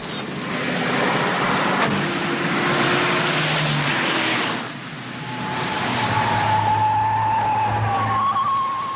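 A car pulls away and accelerates hard, the engine roaring loudly up close with tyre noise, then easing briefly before building again as it speeds off, with no talk.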